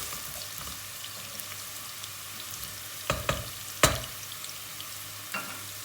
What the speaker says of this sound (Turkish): Havucu hafiften bir kavuracağız.